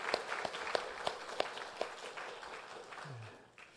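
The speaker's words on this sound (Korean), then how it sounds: "여러분 한번 박수로 격려 한번 하실까요" A church congregation applauds the choir steadily, with a few louder individual claps standing out before the clapping fades away.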